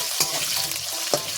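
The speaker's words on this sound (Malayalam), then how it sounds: "ഇതുപോലെ അങ്ങോട്ട് മിക്സ് ചെയ്ത് കൊടുക്കാം." A spoon stirs cauliflower curry in a pan, giving two quick scraping strokes over a soft, close sizzle.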